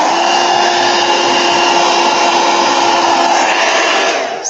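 A handheld hair dryer blows on a painted journal cover, a loud continuous close-up whooshing roar with a steady whine that holds throughout and fades slightly as it ends.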